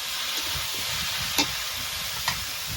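Eggplant pieces and small mixed river fish being stirred in a pan, a steady close sizzle with faint scraping and two brief sharp clinks from the utensil.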